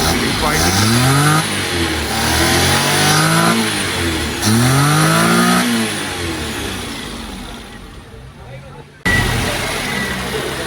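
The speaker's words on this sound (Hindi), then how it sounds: "फाइनल ट्यून अप हो रही है जी गाड़ी। अभी इसकी रेस वगैरह और फ्यूल इनपुट आउटपुट चेक" A petrol car engine is revved repeatedly during a carburetor tune-up, rising and falling in several loud, close revs before settling toward idle and then roaring again.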